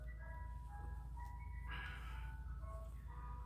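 A jingly ice cream truck tune rings out steadily over a rumbling engine drone, fairly close and clear, with no one talking.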